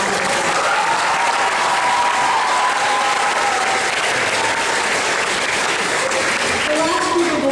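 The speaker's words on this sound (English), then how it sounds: "Let's give them a round of applause." Loud, dense applause fills an elementary school graduation ceremony from start to finish, a steady wash of many hands clapping with crowd murmur underneath and no pause.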